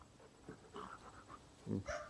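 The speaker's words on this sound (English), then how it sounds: "Dog playing with the raccoon over here." A dog pants in short breathy bursts while playing with a raccoon outdoors, faint and fairly close, with a couple of small whimpering vocal sounds near the end.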